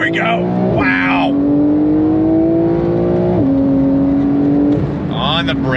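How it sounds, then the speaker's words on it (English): A Porsche 992 911 Carrera S engine with sport exhaust revs hard and holds a steady rising drone, dropping briefly at a gear change before pulling again, loud and close. "Love the sound of that sport exhaust, nothing too obnoxious."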